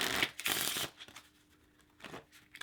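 A deck of playing cards being broken in by hand, with dense bursts of riffling and shuffling up close, then a quieter stretch of lighter handling before another short burst.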